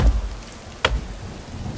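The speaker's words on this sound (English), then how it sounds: "See, rain is good" Steady rain patters down in a forest, a soft continuous hiss with one brief sharper drop or splash standing out midway, no voices.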